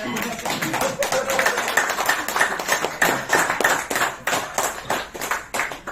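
Several people clap in unison during a business training session, a regular rhythm of sharp, close claps repeating throughout.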